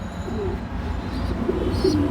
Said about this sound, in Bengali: মূলত এগুলি পোটার জাতীয় কবুতর